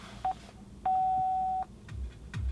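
A Mazda Bluetooth car kit sounds a short electronic beep, then a longer sustained tone lasting under a second, clean and distinct over a quiet car interior.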